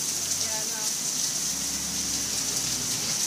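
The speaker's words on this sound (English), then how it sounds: "Hail coming up sideways." Hail pelting down in a hailstorm in Methuen, Massachusetts, a dense continuous hiss and patter of strikes with no pauses.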